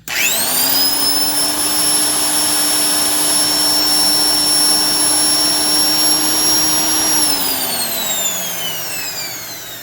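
A Black & Decker 92E heavy-duty industrial 7-inch sander runs without a wheel fitted: a steady, loud motor whine with a high tonal hum, then winds down in pitch near the end as it slows.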